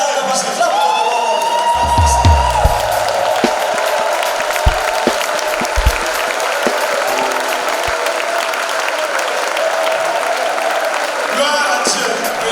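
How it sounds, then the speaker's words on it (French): A worship congregation claps steadily for the Lord through a continuous, loud crowd din, with cheers and a few shouts mixed in. "Clap for the Lord."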